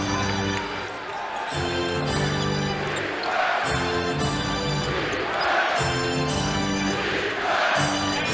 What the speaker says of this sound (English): The loudest we've heard the crowd tonight.